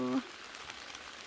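Rain falls steadily in a deep forest during mushroom picking, a soft continuous hiss of drops after a brief voice at the very start.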